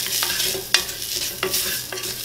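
Onions frying in a pan as salt and spices are stirred in for lulo ketchup, a steady close sizzle broken by several sharp scraping stirs.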